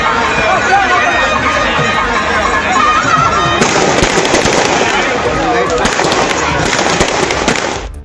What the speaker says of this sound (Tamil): மின்விளக்குகளால் அலங்கரிக்கப்பட்ட தெப்ப வாகனம் குளத்தை 5 முறை சுற்றி வந்தபோது வண்ணமயமான வான வேடிக்கைகள் நிகழ்த்தப்பட்டன